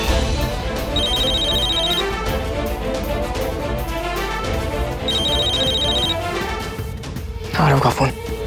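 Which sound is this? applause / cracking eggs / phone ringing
phone ringing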